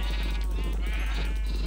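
Sheep bleat in Minecraft, a wavering, nasal cry heard close and fairly loud over a steady low hum.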